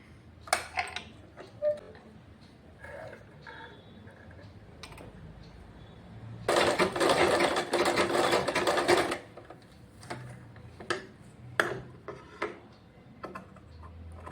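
A sewing machine stitches a blouse seam, reversed to sew from the inside, in one steady, close burst lasting a few seconds. Quiet clicks and fabric handling come before and after it.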